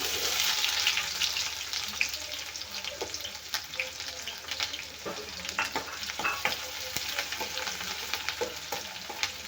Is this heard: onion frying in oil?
yes